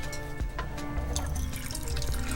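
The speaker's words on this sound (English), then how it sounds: "we are using a 1940s style espresso lever press" Espresso shot pouring from a 1940s-style lever press, a short, close liquid trickle with drips and faint mechanical hum.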